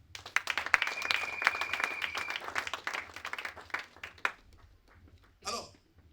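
Church congregation clapping and cheering in praise during a French-language sermon, dense applause for several seconds that thins out, with a brief swell of voices near the end.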